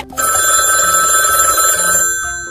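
A telephone rings on a call to mom: a bright electronic ringing tone holds steadily for about two seconds, loud and close, then stops, with no talk.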